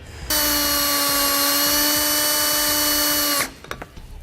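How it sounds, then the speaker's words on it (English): A power drill with a 1/2-inch bit whines loudly at a steady high pitch for about three seconds while boring a hole in a 2007 vehicle for a base plate install, then stops, leaving a few light clicks and knocks. "I'm going to start with my 1/2-inch drill bit to start me a little divot"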